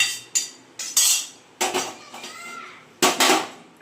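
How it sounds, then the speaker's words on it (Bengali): Curry is poured out of a metal kadai. A few loud, close clanks and scrapes of metal on metal come in separate bursts, with brief quiet gaps between them. "কড়াই ঢালছি"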